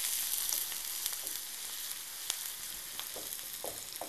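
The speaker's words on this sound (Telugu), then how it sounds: "ఇగో ఇలాగా ఈ ఉల్లిపాయలు బాగా వేగిన దాకా కాసేపు మనం దోరగా వేయించేసుకుందాం" Onions frying in a pan for mini pizzas, a bright, hissing sizzle close up with scattered crackles and pops and a few soft stirring touches, with no voices.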